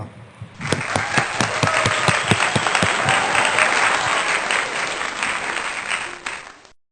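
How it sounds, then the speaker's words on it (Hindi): A church congregation at Sunday worship breaks into steady, dense applause, loud and close, sustained for several seconds before fading out. "तालियां।"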